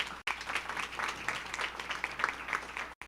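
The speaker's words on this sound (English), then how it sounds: "Let's give them a big round of applause." An audience at a school board meeting claps in a sustained, moderately dense round of applause, even in level with scattered sharper claps, heard from across a meeting room.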